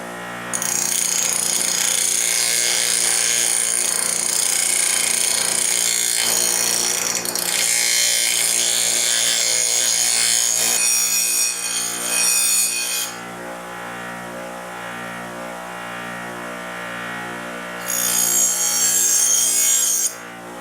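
A Chinese cook's knife blank being reprofiled with a powered grinding tool: loud, continuous, harsh grinding and abrasion held for about twenty seconds, with shifts in pitch as pressure changes.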